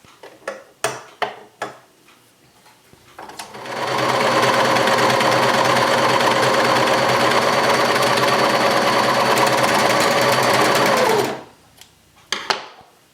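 A serger sewing a rolled hem stitch on knit fabric with the stitch length closed up runs steadily for about seven seconds, a loud fast mechanical whir, with separate clicks and taps before it starts and after it stops.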